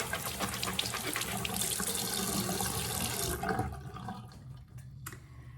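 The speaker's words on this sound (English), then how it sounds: "I was able to do the running under warm water" Warm tap water runs over a Hello Cup menstrual cup at a sink: a steady, close splashing stream for a few seconds, then it cuts off, leaving quieter handling sounds.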